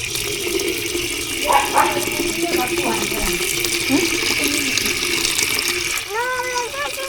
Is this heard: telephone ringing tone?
no